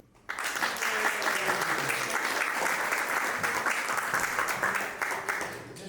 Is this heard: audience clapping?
yes